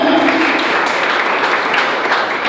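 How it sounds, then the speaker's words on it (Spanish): Youth congregation at an Apostolic church in Venezuela applauds loudly, a thick, continuous burst of clapping from many hands filling the sanctuary for a few seconds. "Démosle ese aplauso a mi Dios."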